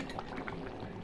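A pot of fish curry with coriander leaves bubbles at a steady, close simmer, a continuous dense burble of popping bubbles with no talk.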